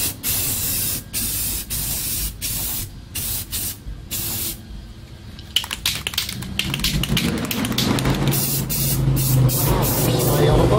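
Spray paint can hissing car paint onto a car outdoors, delivered in repeated short bursts separated by rattling of the can, ending in a longer continuous spray.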